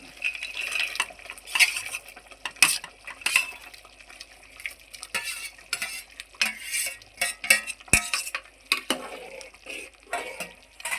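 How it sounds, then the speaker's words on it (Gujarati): Cashews and paneer are tipped into a pan and stirred, giving a close, busy run of scraping, clinking and light sizzling with sharp utensil knocks against the pan. "હવે આ કાજુ ને પનીર નાખી દેવાનું છે"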